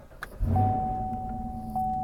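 A 2016/2017 Chevrolet Camaro SS engine cranks and catches with a low rumble, settling into a steady idle while a thin electronic tone chimes.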